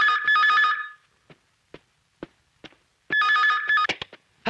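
A telephone rings indoors, with two bursts of bright electronic trilling separated by a quiet gap that holds a few faint clicks and taps.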